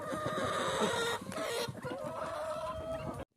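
Hens in a village barn cluck steadily and close by, a dense run of overlapping throaty clucks and drawn-out calls that stops abruptly at the end.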